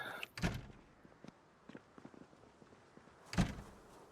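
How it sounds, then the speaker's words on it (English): Doors thud shut in the zombie survival video game Project Zomboid, two distinct closing knocks a few seconds apart with faint footsteps and handling noises between them, fairly close and with no voices. "Constantly closing doors behind me all the time, always."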